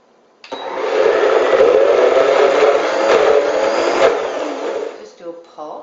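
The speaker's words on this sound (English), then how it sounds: "and then holding the blender down" A blender pulses onions and dill into a vegan onion, dill and horseradish cheese, one loud steady motor whir lasting about four seconds, close up, then a few small clatters as it stops.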